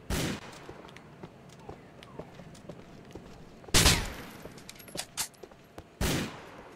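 Gunfire in Grand Theft Auto 4 on PS3: several sharp, loud shots and bursts ring out at irregular intervals over a low background clatter, with a couple of heavy blasts standing out near the end.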